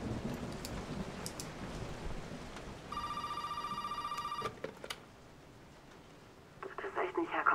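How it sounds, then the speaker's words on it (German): A telephone rings in Resident Evil 7, a clear sustained electronic ring lasting about a second and a half. It sits among rumbling ambient noise and a voice, then falls to near silence before more sound returns. "Das Telefon. Ich komm ja."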